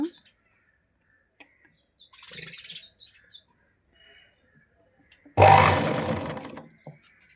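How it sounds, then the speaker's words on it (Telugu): House sparrows nesting indoors give a few faint, scattered chirps in a mostly quiet room, followed by a sudden loud burst of broadband noise near the end. "మా ఇంట్లో పిచ్చుకలు గూళ్ళు కడుతున్నాయండి"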